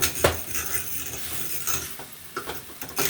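A utensil scraping and clinking in a pan while rice is stirred together with mixed vegetables for yellow vegetable rice, irregular close scrapes and taps under a soft background hiss, with no talking.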